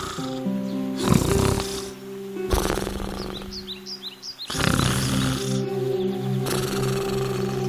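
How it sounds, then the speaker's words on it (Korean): Slow, deep snoring of a wolf sleeping under a tree repeats in long rhythmic breaths, loud and close, with soft music playing underneath and faint bird chirps. "늑대는 그곳 나무 아래 누워 코를 골며 잠을 자기 시작했어요"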